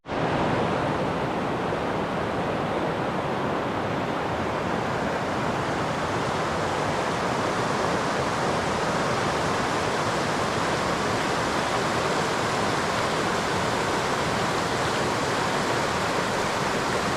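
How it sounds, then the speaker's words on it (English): River rapids at a portage between Hudson and Lake 4 in the Boundary Waters rush in a loud, steady, unbroken roar of white water, close by and alone with no voices. "There's a portage here with some really cool rapids."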